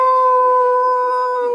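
A voice imitates a dog's howl in one steady, sustained tone held for over a second, close and loud without pause.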